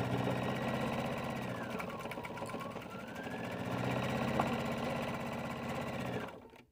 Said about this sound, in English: we're gonna sew a 1/4 inch seam along the top and the bottom of this project